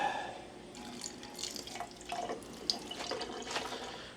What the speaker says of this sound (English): I put some water to get it going